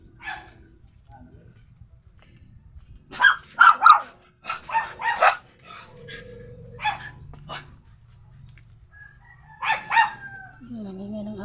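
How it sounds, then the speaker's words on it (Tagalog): A dog barks in a series of loud, close bursts, some single and some in quick clusters, with a person talking in between and a rooster-like call in the background. "Yan ang ingay ng aso ko."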